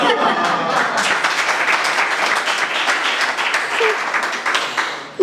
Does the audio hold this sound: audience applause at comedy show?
yes